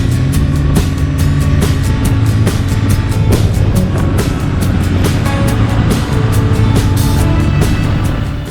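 BMW R1150R motorcycle riding along a canyon road in Hells Canyon, a loud continuous engine rumble mixed with heavy wind roar and repeated thumps, no talking.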